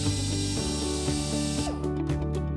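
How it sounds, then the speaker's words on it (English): A power drill with a 1/8-inch bit whirs steadily at a high pitch while boring a small pilot hole for a safety gate bracket, its tone wavering slightly as the bit bores in, with no talking. "Using a drill with a 1 8 diameter drill bit, drill a small pilot hole."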